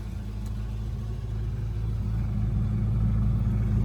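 A 2003 Chevrolet Corvette Z06 engine runs with a steady, deep rumble that builds slightly in loudness over a few seconds, heard up close with no talking.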